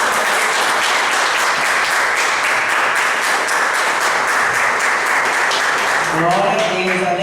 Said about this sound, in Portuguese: Uma forte salva de palmas.